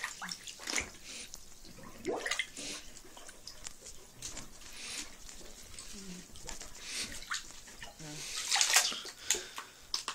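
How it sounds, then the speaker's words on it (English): A clogged toilet being plunged: wet sloshing, gurgling and splashing in irregular bursts, steady at moderate loudness with a louder surge near the end, while a voice speaks faintly at times. "I'm trying to plunge it now."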